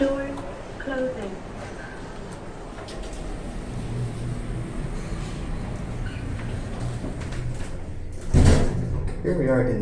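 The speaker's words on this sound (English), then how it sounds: "Doors closing." Shopping centre lift doors at Liffey Valley sliding shut, a low mechanical rumble and rolling slide building over several seconds and ending in a firmer clunk near the end, with people talking nearby.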